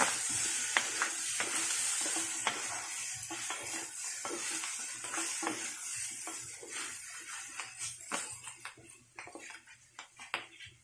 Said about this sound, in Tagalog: Halo ulit.